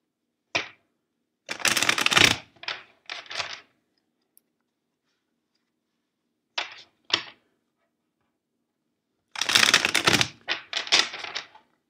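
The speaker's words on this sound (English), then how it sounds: "First, let's shuffle the deck four times for you." Tarot card shuffling in several bursts of riffling and flicking, with longer runs near the start and end and short taps between, close and clear.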